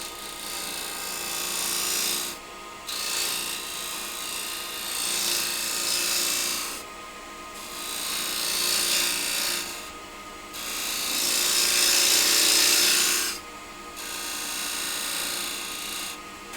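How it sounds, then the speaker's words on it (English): A parting tool cutting into a spinning wood workpiece on a lathe, loud raspy scraping in several long passes separated by short pauses. "I'm going to get my parting tool and just put a little step down where I want the rim to end."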